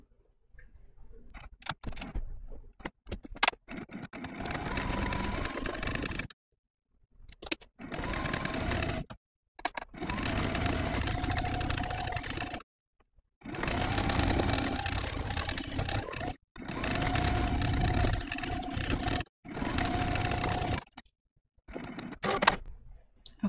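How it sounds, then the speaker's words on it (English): A sewing machine runs a straight stitch around appliqué pieces on a shirt, whirring in several steady bursts of a few seconds each, separated by short pauses, close and fairly loud with no talking. "I'm just going to do a straight stitch around each one of the pieces."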